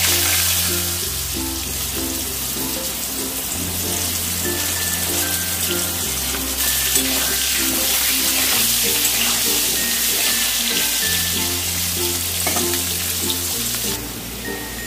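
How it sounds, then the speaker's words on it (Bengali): Potatoes fry in oil in a wok for a Bengali potato, pointed gourd and prawn dish, with a constant loud sizzle and a faint music-like tonal pattern running underneath. "সেজন্য কড়ার মধ্যে এবারে দিয়ে ভাজি। আলুগুলোকেও লাল লাল করে ভেজে নেব।"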